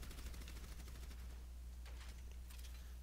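Orisa's machine gun from Overwatch firing in a rapid, continuous burst of shots, fairly quiet and steady across about three seconds with no talking.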